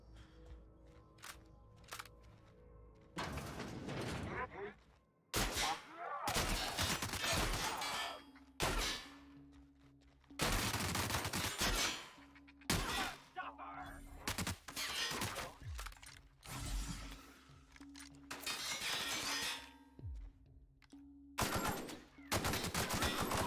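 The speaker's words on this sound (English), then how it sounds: "The assault rifle's kind of nice." Bursts of assault rifle fire from a first-person video game, sharp loud volleys in repeated clusters separated by brief pauses, with a few single shots and clicks early on.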